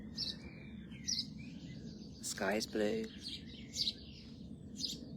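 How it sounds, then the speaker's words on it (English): Garden birds chirp and tweet in short, bright bursts every second or so, fairly close, while a person speaks briefly over them in the middle of the passage. "I can hear the birds."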